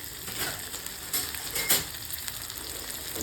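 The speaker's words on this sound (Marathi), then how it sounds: "हिरवी मिरची पण चांगली तेलामध्ये परतली ना" Garlic and green chilies fry in hot oil with a close, steady sizzle and crackle, punctuated by a few louder spits and stirring scrapes.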